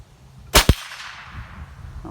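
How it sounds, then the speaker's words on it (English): A .22LR Winchester round fired from a Savage rifle gives one sharp crack, followed almost at once by the bright metallic clang of a hit on a steel target, then quiet outdoor ambience. "I'm going to be shooting at the steel target"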